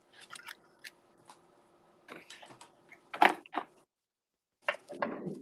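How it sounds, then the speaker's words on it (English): Scissors snip through craft foam pieces at a crafting table, several sharp separate cuts in uneven bursts, close and fairly clear with quiet pauses between. "Now, where's my sticky scissors?"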